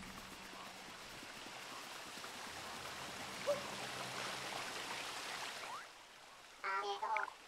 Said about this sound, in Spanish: Estaba por acá, por una cascada.